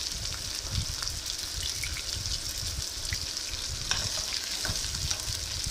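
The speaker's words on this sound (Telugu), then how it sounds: "ముందుగా కట్ చేసి ఉంచుకున్న ఆనియన్స్ కూడా వేసుకొని బాగా ఫ్రై అయ్యేలా చూసుకుందాం" Chopped onions fry in hot oil for a chayote curry, giving a continuous close sizzle with crackling spatter and occasional stirring scrapes throughout, no voices.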